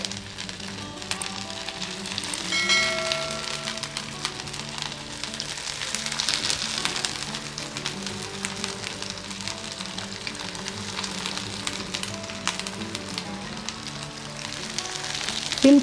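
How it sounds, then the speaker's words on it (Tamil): Chicken fingers fry gently in oil over a low flame, giving a steady, dense crackling sizzle with fine popping that continues evenly throughout, close and moderately loud, with no talking. "ஃப்ரை பண்ணிக்கோங்க"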